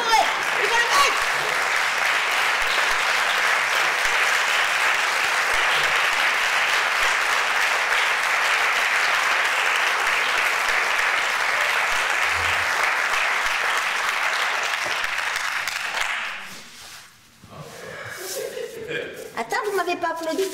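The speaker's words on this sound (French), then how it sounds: "Applaudissez pour eux" Theatre audience applause during a clown show, a long, even roar of clapping lasting about sixteen seconds before dying away, followed by a speaking voice.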